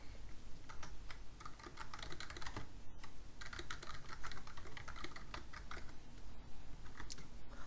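Rapid, steady clicking of a computer keyboard as a title is typed into a presentation slide, close and continuous with short pauses between bursts of keystrokes.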